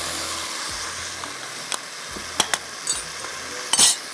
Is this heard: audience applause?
no